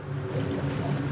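A jet ski engine in the Maneater video game gives a steady, low, buzzing drone mixed with water and wind noise, continuous and moderately loud, with no talking.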